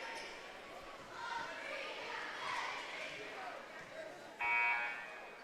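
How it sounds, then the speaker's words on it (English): An inadvertent buzzer sounds briefly near the end of a stretch at a girls basketball game in a gym, a short steady electronic tone rising over continuous crowd murmur and court noise. "I'm not sure what that buzzer was for."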